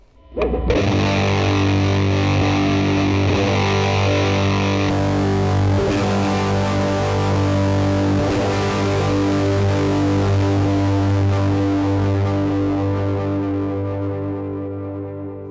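A single sustained electric guitar chord rings loud and distorted through a Fender Mustang GT amp, its effect shifting from before to after the amp partway through, brightening the tone before a slow fade.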